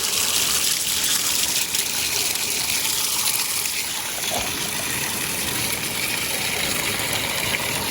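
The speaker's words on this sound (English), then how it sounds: "We're washing it all into a pan right now." Water gushing steadily while washing material into a pan outdoors at a Yuba gold panning gathering, a loud continuous rushing flow with a faint engine hum beneath and no talking.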